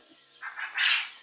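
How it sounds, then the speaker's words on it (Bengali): Farm-raised quail flutter and stir in a pen, giving a brief, close burst of soft wingbeats and rustling that swells over about a second. "দেখতে পাচ্ছেন উড়াউড়ি করছে পাখিগুলো"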